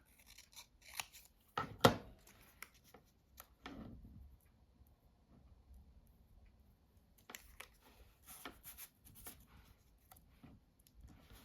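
Scissors cut through paper tags for a junk journal, quiet close snips and rustles in a few short bursts, with a sharper crisp cut near the start and scattered small clicks and scrapes.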